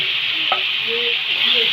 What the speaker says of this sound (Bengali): ভালো করে কষে নিয়েছি